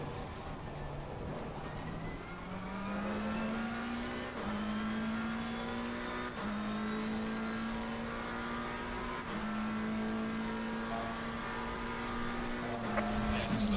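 A race car in Assetto Corsa Competizione drives at Imola in a steady engine drone that steps up through the gears with each shift, while someone talks over it.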